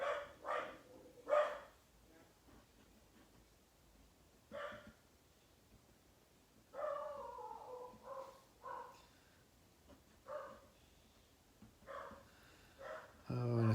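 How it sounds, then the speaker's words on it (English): A dog barks excitedly at someone at the front door, heard faintly indoors as a scattered series of short barks and yelps, with a person talking quietly over them. "I think somebody's at our front door because my dog's going crazy."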